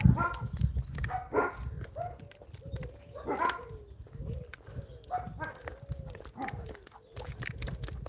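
Several dogs bark intermittently at a distance beside a canal, short yelping calls scattered over an outdoor background with faint rustling and clatter.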